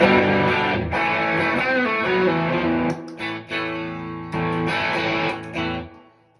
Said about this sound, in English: Fender with a bit of fuzz.